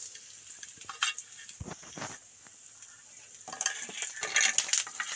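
Curry leaves frying in hot oil in a pan for Kerala parippu (dal) curry, with a soft steady sizzle, occasional spatula stirring and scraping, and louder crackling bursts near the end.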